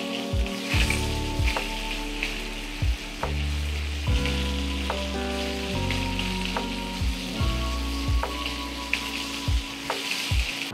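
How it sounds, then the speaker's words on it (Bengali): Fish frying in hot oil in a pan, a close, continuous sizzle and crackle joined by repeated metallic scrapes and clinks of a utensil against the pan, with no one talking. "যেগুলো হয়নি সেগুলো আরেকটু ভাজবো"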